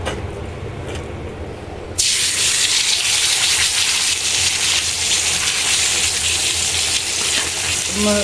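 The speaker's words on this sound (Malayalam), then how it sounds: "വെളിച്ചെണ്ണയിലാണ് ഫ്രൈ ചെയ്യുന്നത്" Pearl spot fish (karimeen) frying in coconut oil, a loud steady sizzle that bursts in abruptly after two seconds of quiet hiss and holds dense and continuous, with small pops near the end.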